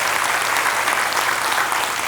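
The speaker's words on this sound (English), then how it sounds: "round of applause, we can do that" An audience at the Be Bold Now Seattle 2023 event applauds the sponsors, a steady, dense wash of clapping held evenly through the whole stretch, with no voice heard over it.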